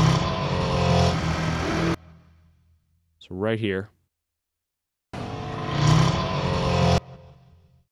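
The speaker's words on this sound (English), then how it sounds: "When these cars are coming towards us, we can hear the change in pitch." Remote-control cars race past one after another, a buzzing whine that swells and drops in pitch as each one approaches and recedes, with a short spoken remark in the gap between passes.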